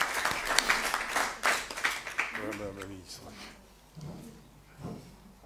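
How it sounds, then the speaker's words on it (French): Broadband clapping from a crowd at a town council meeting fills the first couple of seconds, then fades as a voice speaks over the tail end. "je pense qu'on peut également l'applaudir."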